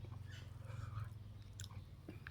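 Close, soft chewing and biting of stir-fried liver with holy basil from a boxed meal, with steady moist mastication sounds over a low background hum and no talking.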